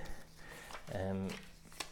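A brief riffling flutter of cards being shuffled together, close and soft, with faint background noise before and after.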